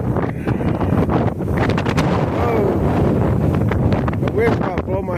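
Strong wind buffets the microphone outdoors at an oxbow near Artesia, New Mexico, a loud continuous rumble across the whole clip with a voice faintly under it.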